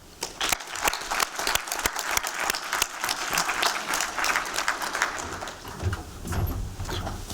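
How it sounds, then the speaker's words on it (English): An audience at a pitch competition applauds the winner, individual hand claps clearly audible in a lively, irregular stream that rises and then thins toward the end, with faint voices near the close. "let's give a round of applause to Aptos Orbital, the 2025 Spark Ohio Pitch Competition winner"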